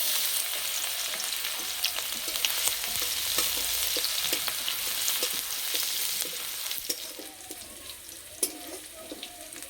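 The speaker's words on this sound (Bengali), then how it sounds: "এবার থেতো করে রাখা রসুন দিয়ে দেবো।" Crushed garlic with dried red chillies fries in mustard oil in a kadai, giving a steady, close crackling sizzle with occasional stirring scrapes and no talk.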